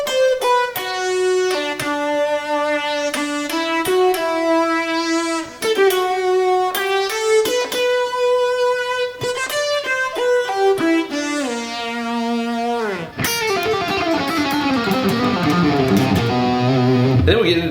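Distorted sitar-like synth guitar tone playing a solo line, a walking sequence of bright sustained notes, ending in a thicker, buzzier strummed passage, close and prominent.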